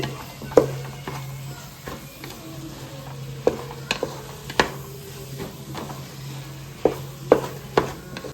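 Rice and soy sauce get stirred in a frying pan: irregular scraping clicks and knocks of a utensil against the pan over a low steady hum, moderately close.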